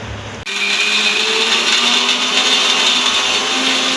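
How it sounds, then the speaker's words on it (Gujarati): A mixer grinder whirs loudly and continuously as it grinds roasted peanuts with salt and black salt, starting abruptly and holding a steady high-pitched motor roar with no talking. "હવે આપણે ગ્રાઇન્ડ કરી લઈશું"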